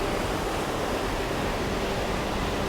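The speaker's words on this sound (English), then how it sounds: "I've come down to the second weir down beyond Padaet, and I'm enjoying the colour of this water, the sound of it too." A swollen, chocolate-brown monsoon river in Chiang Mai, Thailand rushes over a weir in a loud, steady, broadband roar of churning water that holds constant and close throughout, with no voices.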